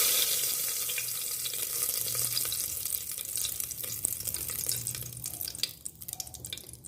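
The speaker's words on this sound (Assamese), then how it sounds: "আমাৰ তেল গৰম হৈ গৈছে। এতিয়া মই তেজপাত দুখিলা দি দিছোঁ।" Two bay leaves frying in hot oil inside a pressure cooker, a steady close sizzle and crackle that fades and thins toward the end with a few sharp pops, no voices.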